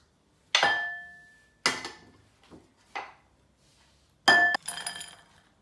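Chocolate and butter drop into a glass bowl, giving four or five sharp, ringing glass clinks spaced about a second apart. Each knock is close and decays quickly, and the last one is followed by a softer rattle.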